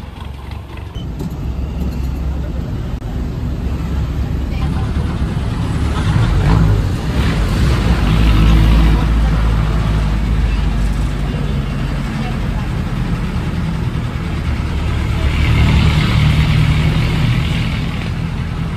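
Diesel jeepney with a freshly calibrated injection pump driving on a road toward Antipolo, a continuous engine rumble and road noise that swells in the middle and again near the end.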